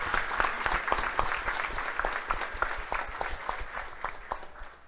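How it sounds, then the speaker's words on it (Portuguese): A church congregation at a Saint Rita novena feast gives a steady round of applause, dense and moderately distant, with a few louder individual claps standing out and fading slightly toward the end. "Acolhemos com a salva de palmas."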